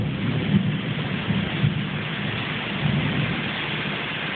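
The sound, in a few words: thunder during tropical rain storm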